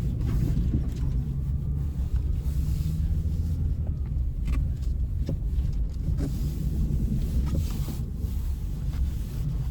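A GWM Haval H9 SUV drives a snowy mountain road in extreme cold, its steady low engine and tyre rumble filling the cabin with light wind noise, continuous and close throughout.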